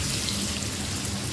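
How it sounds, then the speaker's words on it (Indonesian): Marinated fish deep frying in hot oil, a dense, steady, loud crackling sizzle with no pauses and no talk. "Selanjutnya aku mau goreng ini ikan yang tadi udah dimarinasi sampai dia kering."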